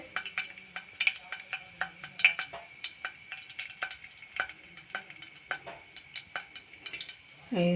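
Cumin seeds crackle and pop in hot oil, a quiet sizzle broken by many sharp little snaps, with a faint utensil clink at the end.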